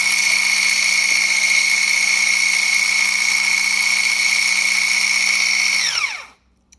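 An Allkeys immersion hand blender whisking in a cup, a loud, steady high-pitched motor whine close by that winds down sharply and stops near the end.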